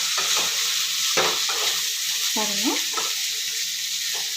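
Okra (ladies finger) frying lightly in oil gives a steady close sizzle, with scraping stir strokes and a brief voice speaking over it.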